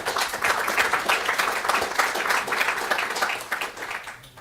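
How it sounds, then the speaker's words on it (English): Conference audience applauds the welcome, a steady dense patter of many hands clapping at moderate loudness throughout, with no speech over it. "I like to give them an applause first in the welcome"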